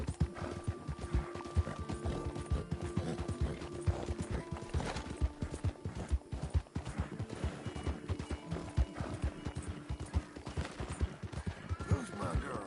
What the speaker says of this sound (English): eu já cuido do meu cavalo